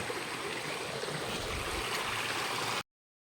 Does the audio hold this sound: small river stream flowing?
yes